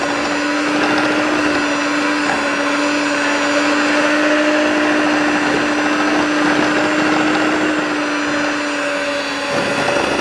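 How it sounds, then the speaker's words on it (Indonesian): An electric mixer beats butter cream and cream cheese in a steady, loud, unbroken whir with a constant motor hum for the whole stretch, and no voices. "Sambil dikocok biar rata dan nggak ngendal."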